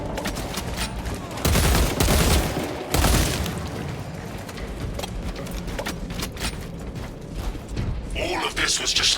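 A heavy weapon is reloaded in Space Marine 2, the Warhammer 40,000 shooter: loud metallic clunks and clicks in bursts near the start, then smaller mechanical rattles under combat noise.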